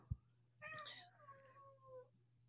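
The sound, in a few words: cat meowing loudly in the background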